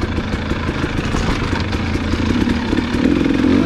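A 2021 Gas Gas EC300 two-stroke dirt bike engine runs nearby, a loud, rough, buzzing drone with a rapid pulsing rhythm that swells slightly toward the end.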